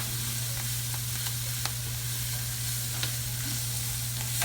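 Onion fries with basil and parsley for chicken cacciatore, an even, close sizzle with a steady low hum underneath and scattered light crackles and taps.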